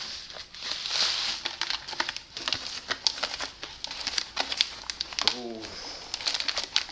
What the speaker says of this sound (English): No, I can't get this package out.